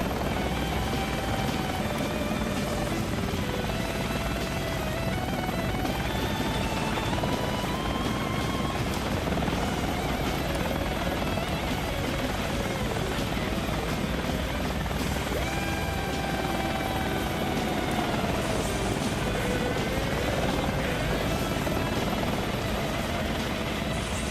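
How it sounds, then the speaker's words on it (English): A helicopter's rotor and engine drone on steadily and loudly throughout a Vietnam-era combat flight video game, with a dense, constant chop that holds without pause. "Helicopter!"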